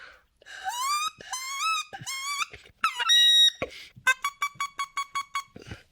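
A man imitates a wood duck call with his voice: rising squealing whistles, then a quick run of evenly spaced squeaky peeps, close and fairly loud.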